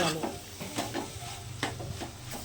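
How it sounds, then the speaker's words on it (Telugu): Spices, chili powder, salt and turmeric fry in a pan for fish curry while a spoon stirs in quick irregular scrapes over a steady sizzle; no voices. "ఆ మసాలాలన్నీ ఇందులో వేసినాను వేసి కారము ఉప్పు పసుపు అన్నీ మంచిగా ఫ్రై అయిన దాకా కొద్దిసేపు ఇవ్వాలి"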